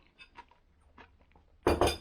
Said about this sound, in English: So I'll just stir this back up.